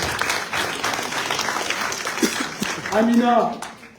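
An audience at a Comorian political gathering claps for a woman being praised. Dense applause fills the room, and a raised voice or cheer rises over the crowd toward the end.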